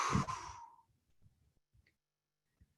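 A person slowly releases a long-held breath during an advanced breathing exercise, producing one audible sigh-like exhale that fades into near silence with a few faint small noises.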